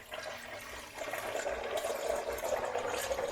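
Oil draining from the drain plug of a classic Porsche, a steady liquid pouring and trickling stream that grows slightly louder and fuller partway through, continuous and fairly close with no talking.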